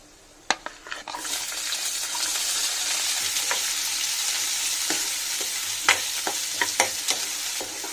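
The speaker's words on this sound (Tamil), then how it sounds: "வெங்காயம் நல்லா சிவக்க வதக்கிக்கலாம்" Two large finely chopped onions sautéing in oil with crackled cumin for a capsicum gravy, a steady close sizzle punctuated by sharp clicks and scrapes of a spoon against the pan, with no talking.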